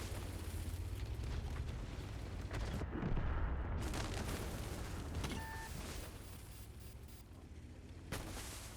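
Artillery launches thud out in an arcade-mode video game, a dense rumbling barrage of booms and blasts that rolls on steadily across the whole stretch, with a heavier surge partway through.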